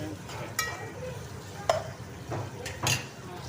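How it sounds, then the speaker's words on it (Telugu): Ginger garlic paste frying in a pan for a chicken curry, with soft sizzling beneath repeated scraping strokes of a spoon against the metal and occasional clinks, close by. "ఇది అల్లం వెల్లుల్లి పేస్ట్ వేసేస్తున్నాం ఫ్రెండ్స్ చూడండి. ఇది పచ్చి వాసన పోయేంతవరకు ఇలా ఫ్రై చేసుకోవాలన్నమాట"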